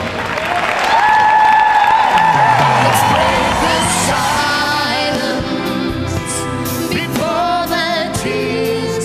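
A large audience at a live rock concert claps, whoops and cheers loudly over sustained stage tones, the crowd noise staying dense and close throughout.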